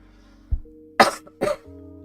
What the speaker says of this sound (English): I still have this annoying cough occasionally